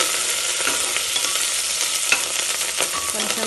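Beans sizzling and frying in a pan on a home stove, a dense continuous crackle with scattered sharper pops and occasional stirring scrapes, close and steady throughout.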